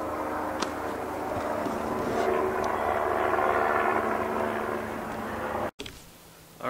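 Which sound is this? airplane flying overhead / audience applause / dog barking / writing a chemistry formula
airplane flying overhead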